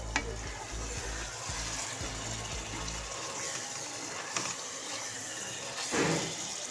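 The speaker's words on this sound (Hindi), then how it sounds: "देखिए आप कितनी अच्छी तरह से भून गई हैं, सारा ऑयल ऊपर आ गया। ये मैंने जैतून के तेल में बनाई हैं।" Potatoes, peas and carrots fry in olive oil with a quiet, steady sizzle. A few soft stirring scrapes sound close by, and a low rumble fades out partway through.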